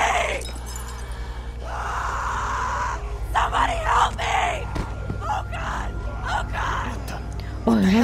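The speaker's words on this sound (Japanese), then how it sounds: "悲鳴を上げてる、人間だ。" In The Walking Dead video game, a woman screams and yells from a short distance amid tense game ambience, with crashing, shattering noises and a voice speaking over parts of it.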